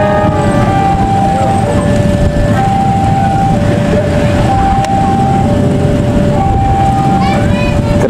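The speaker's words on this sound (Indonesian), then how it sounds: "Sebentar lagi akan segera melintas di sini kereta api Kuta Jaya Selatan." Heavy, continuous rumbling of the Kutojaya Selatan passenger train passing a level crossing at close range in Indonesia, with a steady high-pitched tonal whine running over it throughout.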